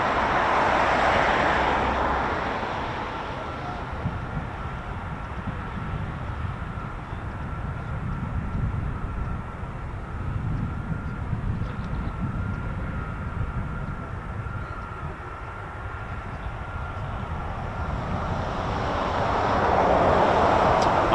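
A US Air Force military aircraft departs, a low jet engine rumble with a steady high tone running through it, loudest at the start and end and quieter in between.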